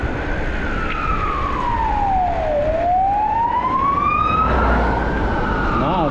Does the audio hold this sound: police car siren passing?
yes